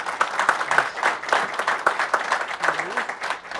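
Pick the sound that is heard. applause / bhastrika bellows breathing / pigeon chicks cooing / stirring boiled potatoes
applause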